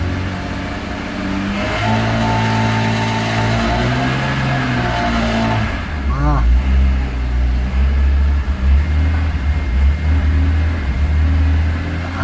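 BMW E46 M3 engine with a suspected VANOS or throttle position sensor fault, idling then revving unevenly and stuttering between about 2,000 and 3,000 rpm, loud and close with no talk.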